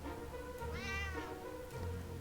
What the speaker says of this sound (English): Why was there a cat in the bag?